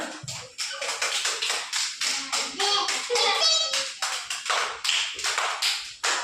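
Children clap during a classroom letter-recognition game, bursts of sharp handclaps in quick repeated rhythm, close and lively, with faint young voices and shuffling between.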